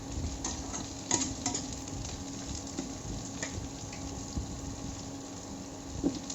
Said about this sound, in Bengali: ডাঁটাটা আর পেঁয়াজটা একটু ভেজে নিচ্ছি